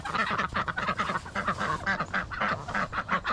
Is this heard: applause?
no